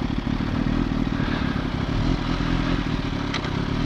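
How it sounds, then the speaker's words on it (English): A Kawasaki H2 motorcycle with a Guhl Motors ECU flash idling, a loud steady close engine rumble with slight mechanical clatter, no talking. "The bike sounds fantastic, by the way. It's not too loud, but it's just loud enough."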